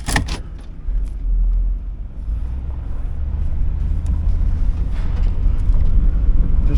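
1993 Cadillac Fleetwood with a 5.7L V8 under way on the road, a low engine rumble building steadily alongside road and wind noise heard from inside the car.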